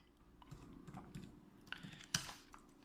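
Faint, close-up keystrokes on a computer keyboard as a date is typed: a brief, uneven run of soft taps ending in one sharper key press, with no talking.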